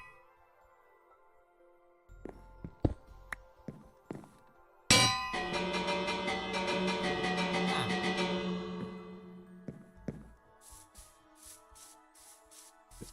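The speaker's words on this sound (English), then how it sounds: "I grabbed the Minecraft bell. The village bell." A village bell in Minecraft struck once loudly, ringing out with a bright metallic clang and long decaying tone, amid quieter game clicks and thuds before and after.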